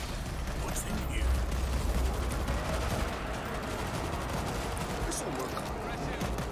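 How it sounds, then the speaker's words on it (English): Rapid automatic turret gunfire in World War Z, a continuous dense rattle of shots mixed with game noise and talk. "Automatic turret set."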